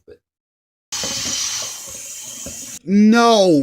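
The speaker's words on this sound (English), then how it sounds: "rinse this off with some water" Tap water runs steadily into a sink to rinse cooked ground beef, a close splashing stream for a couple of seconds before a voice cuts in over it.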